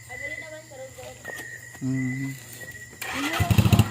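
A faulty motorcycle engine sputters and turns over near the end, rumbling unevenly after a stretch of quieter background noise and faint voices on a road.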